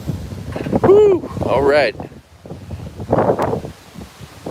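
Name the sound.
wind blowing outdoors by lakes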